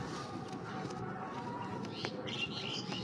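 A 2016-bred racing pigeon coos softly amid a busy loft hum, with brief higher chirps near the end and steady low background noise.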